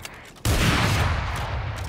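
Gunfire from a rifle fired without its scope in the game Valorant: a loud, sudden burst hits at once and then sustains a dense crackling roar, with no talking.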